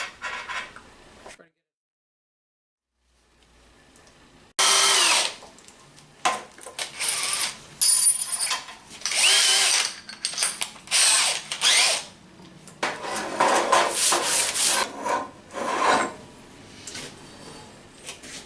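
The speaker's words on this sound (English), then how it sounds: "Somewhere in the center, you want to drill a hole." A power drill whines in repeated bursts, spinning up and biting into steel with brief pauses between, close and loud after a quiet start, drilling a hole to make a Moen cartridge puller.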